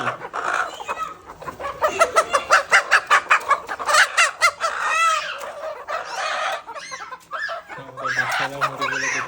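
Hens cluck rapidly in a noisy, overlapping burst close by, and a rooster crows loudly partway through. The flock stays busy and lively throughout.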